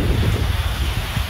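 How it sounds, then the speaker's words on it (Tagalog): Heavy rain pours down steadily in a close, dense, continuous wash of noise with low rumbling, with no voices over it. "lumakas na po talaga yung ulan"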